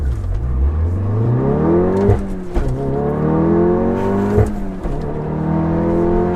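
An APR Stage 2 tuned Volkswagen Golf R with all-wheel drive and an aftermarket race clutch launches hard, its engine note climbing through several rising revs with sharp drops at each gear change.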